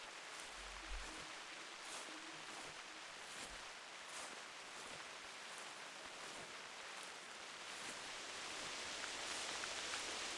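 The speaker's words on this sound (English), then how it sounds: "at least the rain's kind of helping to cover the amount of noise we'll make" Steady rainfall in the hunting game theHunter: Classic, a soft, even hiss of drops pattering on the ground and foliage throughout, with no voices and a few faint low thumps.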